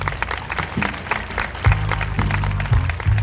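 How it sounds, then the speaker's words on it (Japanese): Crowd at the Koiya Matsuri 2019 festival awards ceremony applauding the winning dance teams, sustained clapping from many people with low, steady music or hum rising beneath it midway. "もう一度大きな拍手をお願いいたします"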